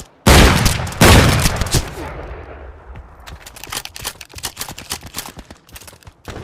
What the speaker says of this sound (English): Oh yeah, no, the little double barrel one.